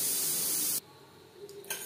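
Pressure cooker whistle sharply releasing steam while mutton curry cooks, a loud hissing burst that cuts off abruptly, then faint hiss and small noises in a quiet kitchen.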